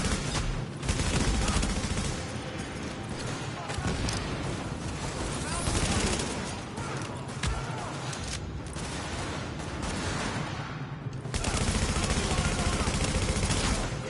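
Steady, dense gunfire from The Division video game, bursts of shots rolling together almost without pause, with a player talking over the shooting.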